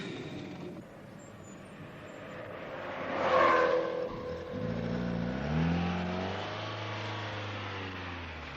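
A car engine hums steadily while driving toward a garage, rising in a brief swell of revs before settling back to a low, even drone.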